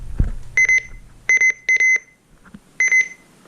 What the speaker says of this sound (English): That's how loud the button beeps are.